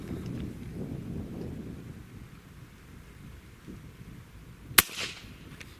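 A single sharp, loud crack near the end from an HP Max .35 caliber air rifle firing, following several seconds of low rumbling background noise.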